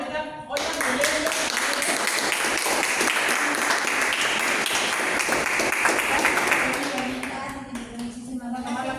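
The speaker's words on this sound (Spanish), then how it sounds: "A ver, un aplauso para Olga." An audience bursts into lively, sustained applause for a woman named Olga Molero at a gathering, the clapping swelling right after a brief opening and tapering off near the end as voices return.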